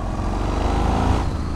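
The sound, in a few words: Yamaha MT-01 2005 motorcycle accelerating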